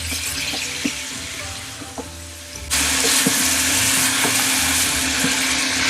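Pork belly chunks are stirred in caramelized sugar in a pan, a close sizzle and fry with occasional spoon scrapes and knocks, growing louder and denser halfway through.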